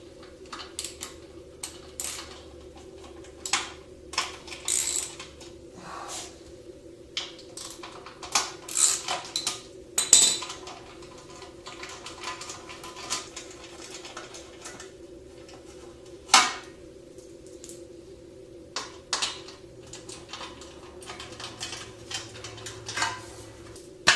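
A ratchet clicks in short, scattered bursts while removing a heat shield from a Kawasaki Versys 1000 motorcycle exhaust, with metallic clinks and taps under a faint steady hum, close and fairly quiet, no talk.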